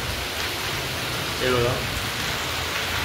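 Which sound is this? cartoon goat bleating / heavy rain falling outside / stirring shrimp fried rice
heavy rain falling outside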